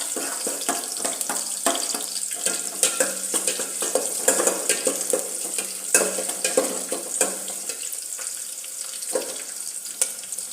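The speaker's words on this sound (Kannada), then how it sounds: "ನಂತರ ಒಗ್ಗರಣೆಗಂತ ಈರುಳ್ಳಿನ ಹಾಕ್ತಾ ಇದ್ದೀನಿ" Chopped onion sizzling in hot oil with mustard seeds and curry leaves for a tempering, a steady close crackle broken by stirring clinks and scrapes, with no talk.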